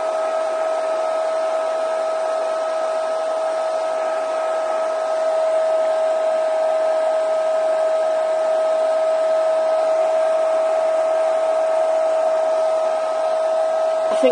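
A hair dryer blows steadily on texture paste spread over a craft card, a loud constant whirring hum with a strong steady tone that runs unbroken and alone for the whole stretch.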